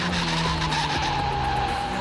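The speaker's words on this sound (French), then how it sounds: "les roues elles bloquent" Race car tyres locking and skidding under hard braking: a loud, sustained squeal with a steady tone that holds for the whole two seconds, close and alone with no voices.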